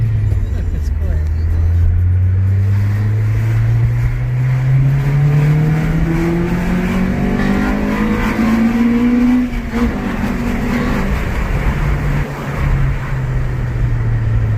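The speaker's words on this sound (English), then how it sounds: "But this exhaust is a little different. It's actually a lot louder than mine." Modified car exhaust with a muffler delete and Yonaka catback system, a loud steady engine drone rising in pitch as it revs, close and continuous throughout, with voices talking over it.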